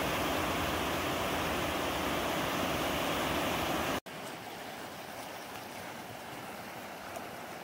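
A river flowing along a hiking trail beside a large log, steady broadband rushing that stays loud and continuous, with a sharp cut midway after which the flow sounds softer and more distant.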